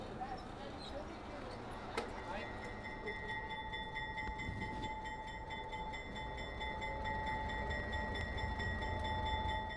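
A train idles at a station, with a steady mechanical hum, a sustained high tone and occasional clanks, while distant voices murmur underneath.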